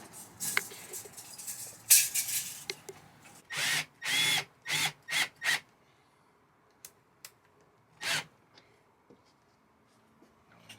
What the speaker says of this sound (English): he knows where to drill in our ceiling to the framing we have up there